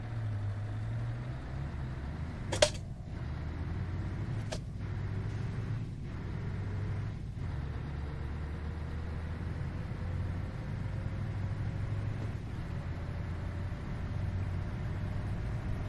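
A lorry in Euro Truck Simulator 2 drives along at steady speed with a continuous low engine drone and tyre rumble. A sharp click and a few faint knocks sound early on, and nobody speaks.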